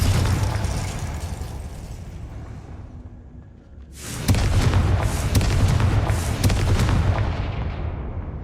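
A Confringo fire spell detonates in Hogwarts Legacy, a sudden loud blast after a quiet lull, followed by a sustained roaring rumble with crackling bursts that continues to the end.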